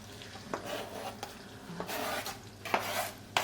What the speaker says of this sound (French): on va faire suer les échalotes dans un petit peu de beurre avec un petit peu d'huile d'olive pour pas que le beurre il brûle